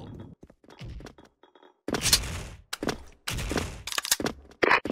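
Grenade blasts go off in the shooter game SF Rush: several loud, sharp bursts with short decays, separated by quieter gaps holding gunfire clicks and thumps, close and punchy.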